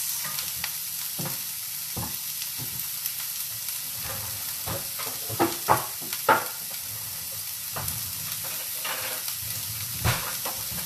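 Onion browning in a pan during tomato salsa preparation, giving a steady, quiet sizzle throughout with occasional soft clicks and scrapes of stirring.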